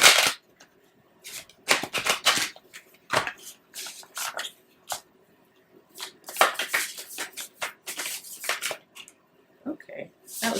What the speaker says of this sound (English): That was like an odd shuffle